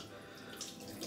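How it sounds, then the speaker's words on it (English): Water from a shaving brush running down a forearm and spilling into a bathroom sink, a steady close trickle and splash with no speech. "that's a little too much water. Do you hear that? It's running down my arm into the sink."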